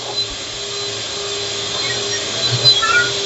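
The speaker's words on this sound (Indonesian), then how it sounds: "icing sugar atau gula halus, kemudian butter kita mixer dan biarkan dia menyatu hingga lembut" An electric mixer beats butter with icing sugar for a cheesecake, giving a steady, close whirring motor drone that holds at an even level throughout with no talking.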